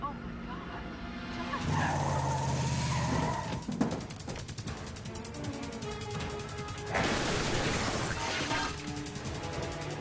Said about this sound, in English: Car crash number 4?